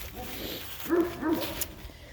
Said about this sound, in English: I know the neighbors' dogs are going off too.